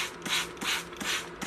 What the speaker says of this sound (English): So just spray those down